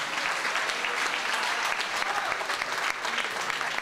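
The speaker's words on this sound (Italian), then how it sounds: "Un applauso a loro" Audience applause at a company open day, a continuous dense patter of many hands, moderately distant and fairly quiet, steady throughout.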